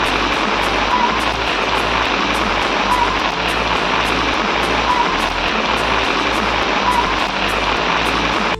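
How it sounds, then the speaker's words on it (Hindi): Heavy monsoon rain pours steadily over a Rajasthan village, with water rushing and flowing through flooded lanes; a loud, continuous, dense hiss without pause. "आज बहुत भारी बरसात हुई है।"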